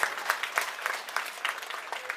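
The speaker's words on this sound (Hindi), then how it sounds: "पहले एक बार कार्यकर्ताओं के लिए जोरदार तालियां आप लोग बजा दें" A crowd at an Aam Aadmi Party public rally in Mustafabad, Delhi claps for party workers, a dense, even burst of applause from many people, brief and moderately loud.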